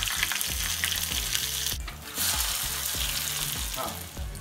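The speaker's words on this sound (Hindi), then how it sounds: "प्याज को थोड़ा भूनने देते हैं जब तक वो थोड़ा ब्राउनिश ना हो जाए तब तक" Onion and green chillies frying in desi ghee on a home stove, a loud close sizzle with regular stirring knocks against the pan, one brief surge of hissing midway, no talking.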